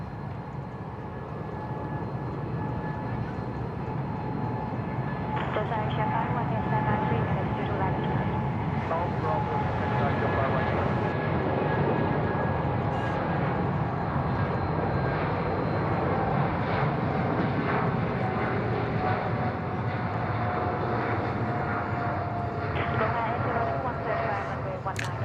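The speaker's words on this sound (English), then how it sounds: "Bit of a longer takeoff roll than expected, I guess, in comparison to the 777 that passed before." An EVA Air Boeing 777 on its takeoff roll at Bangkok Suvarnabhumi Airport, a long, steady, distant jet roar that swells gently and holds for the whole stretch, with faint voices over it.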